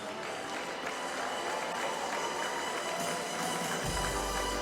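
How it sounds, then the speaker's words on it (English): Steady applause from a crowd at a boxing championship prize ceremony, a dense, continuous clapping that holds evenly throughout, with a low rumble joining near the end. "A huge round of applause."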